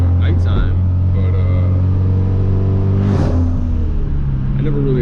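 Hyundai Veloster Turbo with full bolt-ons and a tune driving at night, its engine droning loudly and steadily with a brief surge of revving partway through, while someone talks over it.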